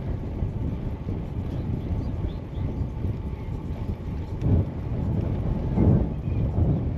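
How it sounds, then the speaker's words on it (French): Headwind of about 20 km/h buffets the microphone while cycling along a green-way bike path, a continuous low rumbling roar with gusts swelling louder toward the end. "Là j'ai le vent de face, à peu près 20 km/h."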